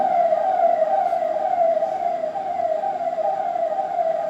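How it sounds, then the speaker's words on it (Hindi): A loud, steady emergency siren wails continuously, its tone sliding gradually, close by and dominating the scene with a low rumble of traffic underneath. "ये जरा सायरन बंद होने दो"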